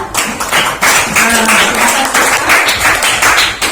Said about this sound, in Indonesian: Kasih aplaus dulu untuk teman kita.